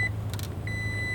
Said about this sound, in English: Oh, we gotta stop that beeping.